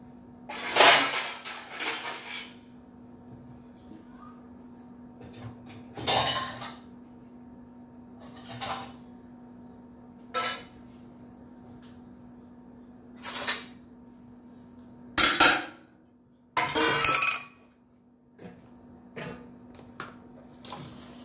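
A pan set onto a home kitchen stove for onion uthappam, with repeated metallic clanks and knocks of cookware at irregular intervals over a low steady hum, close and fairly loud.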